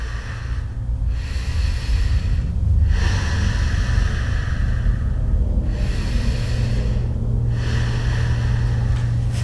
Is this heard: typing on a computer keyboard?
no